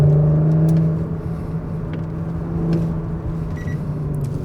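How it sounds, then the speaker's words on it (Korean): A Porsche Cayenne Coupe engine idles with its sport exhaust on, a low droning hum that swells slightly, a deep steady exhaust tone without sharp revs. "배기 사운드 시스템 켜져 있고"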